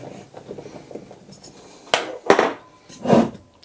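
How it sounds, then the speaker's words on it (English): Metal tools clink and knock against a vintage side valve engine as its cover is worked off, with a few sharp, louder clanks in the second half over quieter rattling. "Let me get this cover off."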